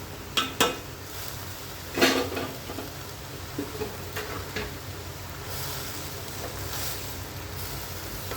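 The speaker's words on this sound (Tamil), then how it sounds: "நல்லா கிளறி விடுங்க." Beetroot greens are stirred in a cooking pot, with a few sharp utensil scrapes and knocks against the metal, soft rustling of wilting leaves and a faint sizzle underneath, close and fairly quiet, no talking.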